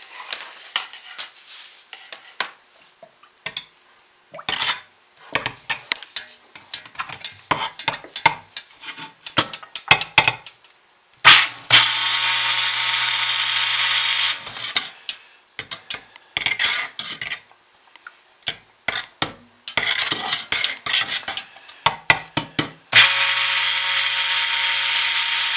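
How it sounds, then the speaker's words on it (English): A stick blender whirs in several sustained bursts while mixing soap batter, interspersed with clatter and knocks of utensils and containers between runs; near and fairly loud. "Make a little bit of noise here with the stick blender."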